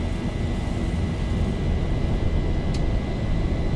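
A Zibo Boeing 737-800 jet in X-Plane 11 roars steadily down the runway on its takeoff run, a loud, constant broadband engine rumble with no talking.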